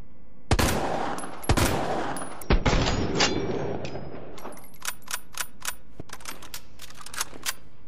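A long-barrel magnum in Resident Evil 2 Remake fires several sharp, loud, close shots spaced roughly a second apart, each with a metallic ring, followed by lighter clicking handling sounds.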